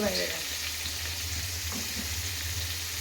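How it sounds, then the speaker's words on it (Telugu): A second batch of fish fries in hot oil, a continuous close bubbling sizzle over a low hum, with a brief clatter at the start. "వేయించుకుందాం సెకండ్ ట్రిప్ వేయించుకుందాం"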